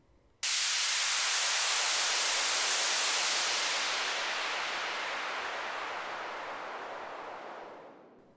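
Synthesized noise sweep with the bass cut, a sudden loud burst of hissing static that rumbles on, brighter at first, then slowly thins and fades over several seconds.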